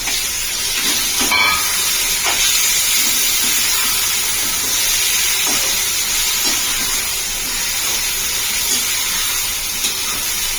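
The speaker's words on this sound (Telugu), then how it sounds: "ఇప్పుడు టొమాటోలు వేస్తున్నాను." Tomatoes tipped into a hot pan of frying brinjal with turmeric and salt, giving a steady loud sizzle and hiss that runs on throughout, with a few faint clinks and stirs, no talking.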